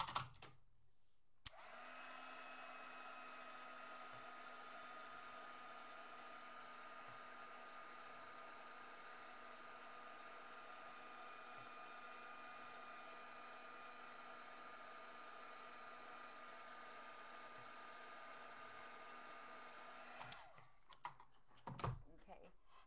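A heat tool blows a steady, even whir while heat-setting embossing powder, running for about twenty seconds with a faint hum and clicks at the start and end.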